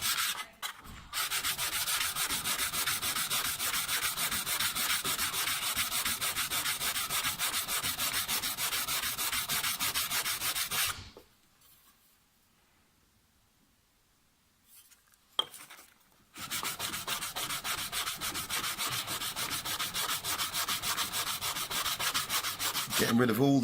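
A cabinet scraper's edge is honed at 90 degrees to work out file marks, producing loud, steady, continuous rubbing strokes that run for about eleven seconds, stop briefly, then resume just as strongly.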